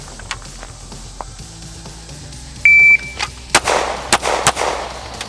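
A shot-timer beep starts a pistol draw from a Tier One Concealed Axis Elite holster, and about four loud, sharp gunshots follow in quick succession at close range, each leaving a brief ringing tail.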